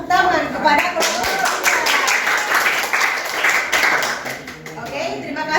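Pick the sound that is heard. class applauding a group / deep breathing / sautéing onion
class applauding a group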